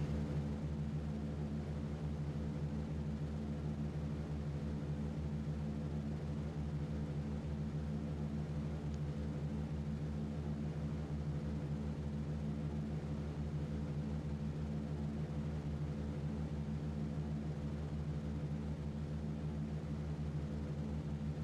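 A bomber aircraft in a video game holds a steady, droning engine hum at takeoff, loud and unbroken with a constant low tone throughout and no talk.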